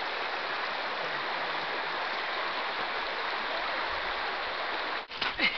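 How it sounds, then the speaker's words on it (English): Mountain stream rushing steadily in the open, a loud continuous broadband wash of running water that holds constant throughout, with a brief disturbance near the very end. "Beautiful streams running along here."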